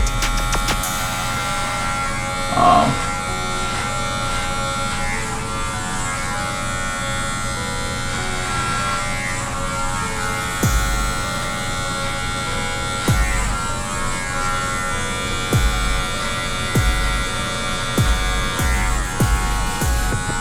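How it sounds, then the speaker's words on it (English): Electric wall hair clippers run with the guard fully open while cutting hair, a steady close buzzing hum throughout with brief soft knocks and taps as the clipper moves, no talking. "Then I'm gonna grab my wall clippers. I'm gonna use it all the way open."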